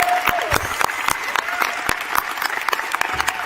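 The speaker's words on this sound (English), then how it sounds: "Can we also please give a massive round of applause to Aaron here" A convention crowd at a live show in Australia applauds a performer, sharp individual claps standing out over a continuous patter of clapping, loud and close throughout.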